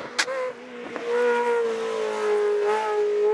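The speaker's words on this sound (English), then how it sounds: "pushing the start button to wake up the high-revving V8" A Ferrari 360 Modena Challenge's high-revving V8 runs on a racing circuit, a steady loud engine drone with sharp transient bursts near the start, heard alone without talk.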